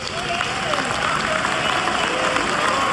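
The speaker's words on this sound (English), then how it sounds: "Graduates, let's give a big round of applause and" Steady, dense applause from a large audience at a University of Illinois Chicago graduation ceremony, a continuous roar of many hands with faint crowd voices mixed in.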